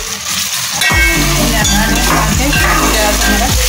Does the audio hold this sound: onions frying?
yes